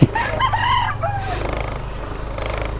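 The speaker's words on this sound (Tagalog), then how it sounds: "Lit-lit na manok eh." A small rooster crows once, a thin strained call near the start, followed by farm ambience and a faint rhythmic engine hum.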